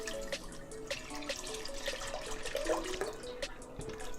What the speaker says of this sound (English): Pour your milk into.